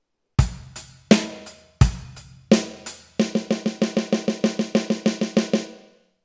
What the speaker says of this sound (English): let's play 1 bar of the beat, 1 bar of the fill. Fill being the 16th notes on the snare.